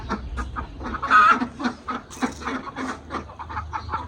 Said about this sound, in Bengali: এখানে দেশি মুরগ ধরা হয়েছে